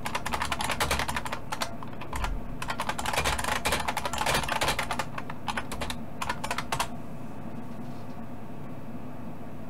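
Fast, continuous typing on a computer keyboard, with dense bursts of clicking keys close to the mic that stop abruptly near the end, leaving quiet background hiss.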